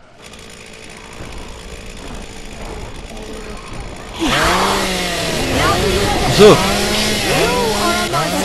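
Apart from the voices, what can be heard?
chainsaw in the video game Dead Island Riptide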